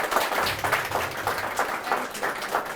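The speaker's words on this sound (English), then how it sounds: "Big round of applause, guys." Audience applause at an onstage interview event, a soft, steady patter of clapping from a modest crowd, moderately distant and without talk.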